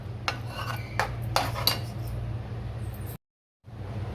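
Spice paste for cashew paneer curry stirred in a pan, with a utensil scraping and clinking against the metal in close, irregular strokes over a low background hum, broken briefly by a moment of silence.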